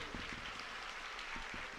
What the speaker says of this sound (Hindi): मैं चाहता हूं उन बच्चों के नाम आपकी एक बार तालियां उनके समर्थन में बजे